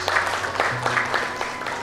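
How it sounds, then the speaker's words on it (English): Audience applause at a business summit welcoming a bank's chief manager to the stage, steady clapping over 2 seconds with a faint tonal hum and some background murmur. "A round of applause"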